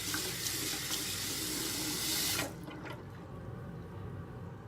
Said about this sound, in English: I had to wash my hands first.